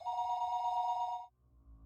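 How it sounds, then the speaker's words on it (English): A single electronic telephone ring from the game Higurashi: Watanagashi, one buzzing burst of just over a second that cuts off into a low, quiet background hum. "The phone rang,"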